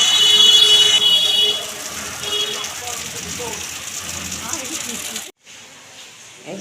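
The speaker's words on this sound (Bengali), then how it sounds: "যেমন বৃষ্টি তেমনি ঝোড়ো হাওয়া" Steady broadband hiss of storm rain with gusty wind near a Shiva temple, loud at first and then softer, continuing without a break except for one brief dropout near the end.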